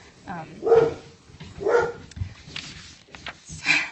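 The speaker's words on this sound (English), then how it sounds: "Pardon my dog." A dog barks several times from somewhere nearby, a few loud woofs spaced across a few seconds, with a person talking over it.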